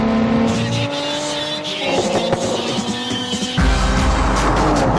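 A powerful Jaguar F-Type sports car engine roars and revs hard as the car speeds along, with tire squeal and a sharp gear change near the end, loud and close.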